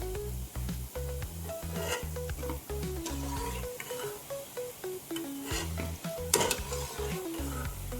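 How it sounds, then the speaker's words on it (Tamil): Gulab jamun deep-frying in oil over a medium flame, a steady bubbling sizzle broken by repeated spoon strokes and a few sharper clinks, close and without speech. "நல்லா பொன்னிறமாக ஆகிற வர மீடியம் ஃப்ளேமில் வச்சு வேக விடணும்"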